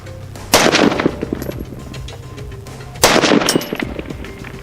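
A rifle fires two loud, sharp shots about two and a half seconds apart at an outdoor range while being zeroed on a target, each shot followed by a ringing echo and no talking.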